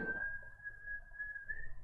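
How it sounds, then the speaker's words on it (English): A kettle whistles in the background of a tabletop game scene, a steady thin high tone holding for about two seconds over a low murmur of room noise. "You hear the gentle whistle of the kettle in the background as she brings you over some tea."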